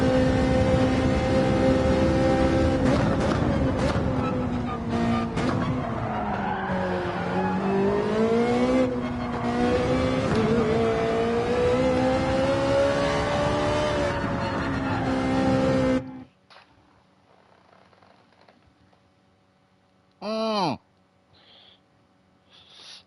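A racing car engine in Gran Turismo 7, heard from the cockpit view, roars and revs continuously, its pitch sweeping up and down, then cuts off abruptly, followed by quiet and a brief whining sweep.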